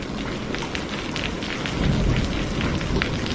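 Steady heavy rain hisses close by, and a low rumble of thunder swells partway through, with no voices.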